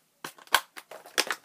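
Scissors snip through toy packaging in a series of sharp, close, irregular cuts, about half a dozen quick crisp snips.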